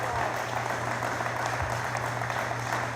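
An audience applauds at an airport EMAS commissioning event, a dense, steady patter of clapping sustained throughout over a low hum.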